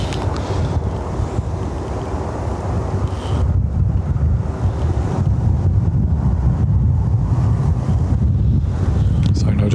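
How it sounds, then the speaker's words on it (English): Gusty wind buffets a camera microphone at Dublin Airport, a heavy, rumbling roar that thickens noticeably after the first few seconds, with faint voices underneath. "Just the wind is catching the camera and moving it."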